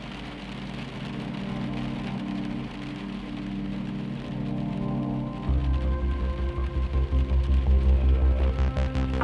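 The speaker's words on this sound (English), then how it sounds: "The sound of the rain always puts my mind at ease." Steady rain falls outside a motel, a dense, even hiss that thickens after the midpoint into heavier, rhythmic drumming with a low hum underneath.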